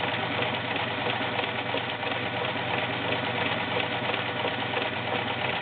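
Vintage Kenmore model 1802 sewing machine running a stretch stitch on fabric, a steady, close whirring hum with fast regular needle chatter, continuous and alone without talk.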